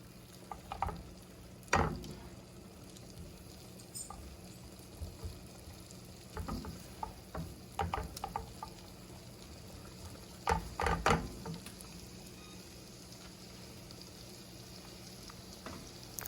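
Butter and garlic cook quietly in a pan, a faint low sizzle with scattered clicks and scrapes from stirring, no voices.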